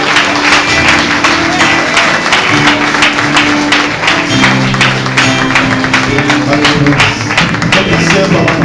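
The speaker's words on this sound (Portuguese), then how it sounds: "Dê uma forte salva de palmas para Jesus." A church congregation claps together in a dense burst of applause that lasts several seconds, with sustained music playing underneath.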